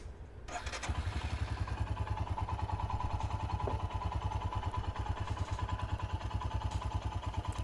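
A Royal Enfield Himalayan ABS motorcycle engine cranks, catches and settles into a steady, close, thumping single-cylinder idle with a rapid, even pulse and light mechanical clatter.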